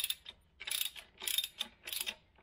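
Ratchet with a 17 mm deep socket tightening a tie rod during a power steering rack replacement on a 2000 Acura 3.2 TL, four bursts of quick clicking pawl ratchets, close and crisp with pauses between strokes.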